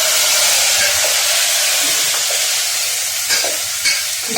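Kundru (tindora) being stirred with coriander powder and other spices in a pan: a loud, continuous hissing sizzle with a few soft scraping strokes, close up and without talk.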